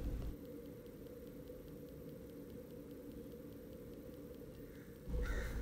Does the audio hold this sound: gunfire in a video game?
no